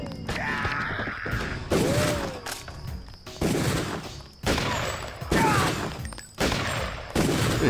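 Repeated bursts of gunfire in the Deus Ex video game, several loud volleys of shots with brief gaps between them, with mechanical clanks mixed in and no talking.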